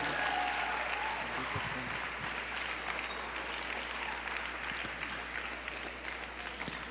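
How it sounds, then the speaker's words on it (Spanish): A church youth-meeting congregation applauds loudly and steadily for several seconds, a dense wash of clapping with a faint voice underneath. "Dale un aplauso fuerte al Señor."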